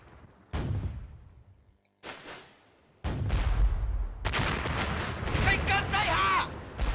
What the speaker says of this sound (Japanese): 艦砲射撃が始まってます。